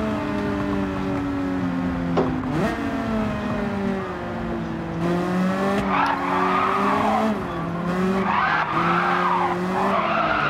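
Honda race car in Gran Turismo 7 on a mountain touge road, engine droning steadily with shifting pitch while tires squeal and skid through corners, loud and continuous throughout.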